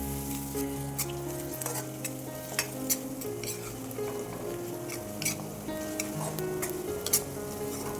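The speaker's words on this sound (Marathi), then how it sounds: "आता हा कांदा तेलामध्ये छान परतून घ्यायचा आहे।" Onion sautéing in oil in a pan while a Konkani-style raw jackfruit dish is cooked: a steady, close sizzle with repeated scraping stirs and occasional sharper clinks, with no talking.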